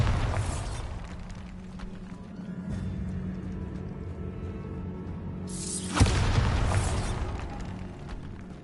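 A Bombarda explosion spell cast in a PS4 game: a sustained rumbling blast, followed a few seconds later by a second loud burst with a bright, crackling swell.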